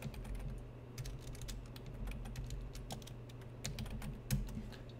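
Fast typing on a computer keyboard while entering a WorldEdit command in Minecraft: close, crisp key clicks in quick irregular bursts over a low steady hum.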